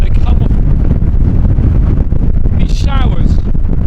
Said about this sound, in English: It's that windy up there